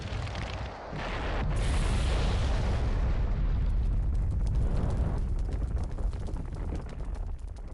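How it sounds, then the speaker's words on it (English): A fire-style jutsu attack in a Naruto video game erupts as a roaring fiery explosion, loud and sustained for several seconds with a crackling, rumbling blast that fades slightly toward the end. "Fire style, Greek fire annihilation!"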